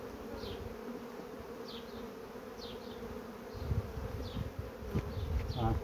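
Honeybees buzz around hives at an apiary, a steady hum with individual bees zipping close past the microphone several times, fairly quiet, with some handling noise toward the end.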